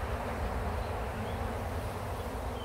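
Honeybees buzzing as they are gently brushed off a hive feeder during swarm handling, a dense continuous drone close by with no pauses.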